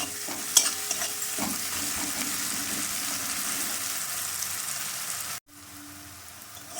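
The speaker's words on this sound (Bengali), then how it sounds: "আবার 1 মিনিট পর পেঁয়াজটা নেড়ে দিলাম।" Onions frying in a pan for a Bata fish kalia, a close, even sizzle with a spoon stirring through them, a few clinks near the start and a brief cut near the end.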